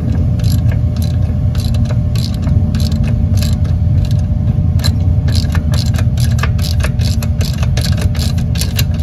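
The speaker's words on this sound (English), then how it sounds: "you grab a T45 and then you tighten up the pins in the back" A ratchet turning a T45 bit to tighten the rear brake caliper pins on a BMW E46, rapid steady clicking over a loud, constant mechanical drone that runs the whole time.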